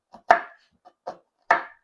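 A knife chops through an onion on a cutting board in a home kitchen, four crisp, close strikes spaced unevenly with two louder thuds.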